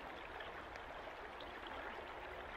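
Babbling creek water runs steadily in a steady broadband rush along a protected forest stream, close and continuous with no voices.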